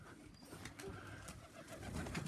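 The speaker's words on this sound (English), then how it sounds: "Look at them old birds up there." Pigeons cooing in a group overhead, soft repeated coos mixed with outdoor background noise and faint rustling, steady and moderately close.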